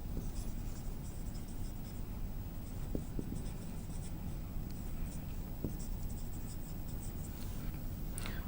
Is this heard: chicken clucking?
no